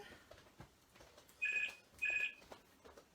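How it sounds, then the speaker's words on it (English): A landline telephone rings in the background of a quiet room, two electronic trills about half a second apart, moderately loud, with no talking during the rings. "Apologies for the phone ringing in the background."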